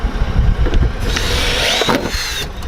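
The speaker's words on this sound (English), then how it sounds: "I just have to drill this out to 3/8" A drill bores out a hole to 3/8 inch in an OEM plastic fender flare, giving a harsh, violent grinding and rattling burst with a brief rising squeal, close and loud, no talking.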